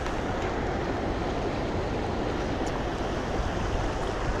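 A river runs by a mountain bike trail in Virginia Canyon Mountain Park. The water gives a steady, even rush of broadband noise with no talking.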